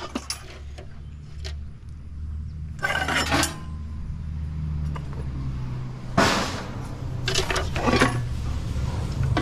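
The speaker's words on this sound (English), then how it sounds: "You want pots and pans, you save pots and pans." Scrap metal pots and pans clank and rattle as they are handled and tossed during loading, with two louder bursts of metallic clatter over a steady low engine rumble nearby.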